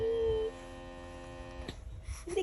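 An air conditioner running indoors gives a steady low electrical hum throughout, with a brief louder tone at the start and faint household rustles near the end.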